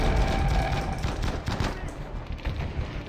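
Rapid automatic gunfire from the video game Battlefield V, a dense, loud stream of shots with faint voices underneath.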